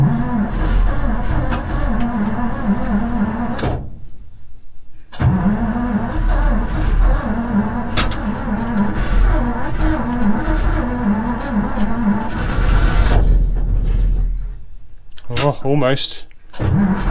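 A Swedish military Stalwart truck engine cranks repeatedly in loud rhythmic bursts with pauses between attempts, a voice briefly speaking near the end as the engine stumbles toward catching.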